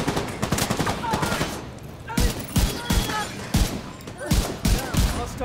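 Rapid rifle gunfire from the video game The Division 2, a loud irregular volley of sharp shots in quick bursts, with faint game sounds beneath.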